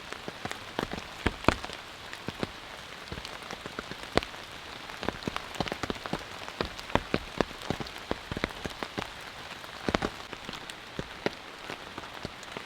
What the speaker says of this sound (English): Rain started a few hours ago, and so far it's been moderate to heavy